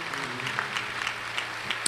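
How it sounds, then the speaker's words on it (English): A church congregation claps in praise during a Sunday service, a brief, dense patter of many hands at moderate distance, steady and unbroken. "let's give the Lord a hand clap of praise"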